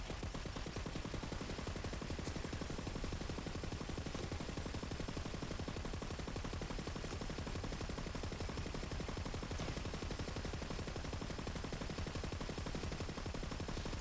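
Rapid automatic gunfire from a bullet-hose gun in the video game Wonderlands, a dense, continuous stream of shots running unbroken and steady at a fairly low level.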